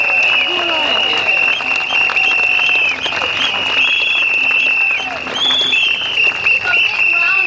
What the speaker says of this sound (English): A big round of applause to all our speakers tonight on stage.